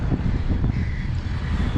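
Strong headwind on a long flat road toward Aparri buffets the microphone while cycling, with a constant low roar and rumble throughout.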